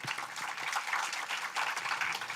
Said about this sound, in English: So big round of applause for parents.